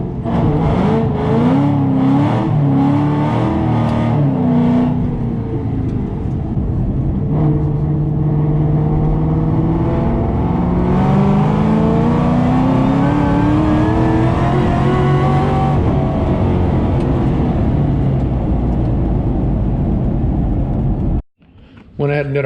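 Ford Mustang GT500 engine at wide open throttle, revving steadily upward toward 6000 RPM in a long rising pull with dense harmonics, loud and close from inside the car, dipping abruptly near the end.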